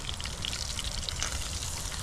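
Steady crackling sizzle of dalag (snakehead fish) frying in a pan, continuous and fairly close, with no talking.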